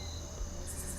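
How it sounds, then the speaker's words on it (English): Locusts chirp outdoors at night in a steady, rapid pulsing drone that fills the background, with no one speaking. "you may hear the locusts and the birds and some dogs in the background."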